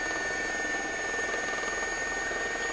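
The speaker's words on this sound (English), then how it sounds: "The Gazelle helicopter, and they've only just retired it." Gazelle helicopter in a flight simulator game: a steady whirring rotor and engine drone with a thin high whine, continuous and unchanging throughout.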